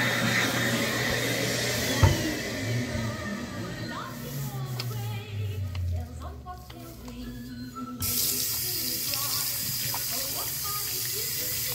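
An Excel Xlerator hand dryer with a .8 nozzle runs at Tanger Outlets in Deer Park, NY, a loud steady roaring whoosh. The tone shifts partway through, with a person talking over it.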